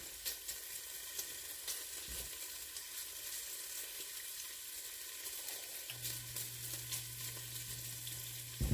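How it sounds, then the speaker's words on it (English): Bacon sizzles and renders its fat in a pot at the start of Southern collard greens, a steady close crackling hiss with faint stirring, later joined by a low steady hum from the kitchen. "I'm going to cook them until they're done and all that fat is rendered out of the bacon."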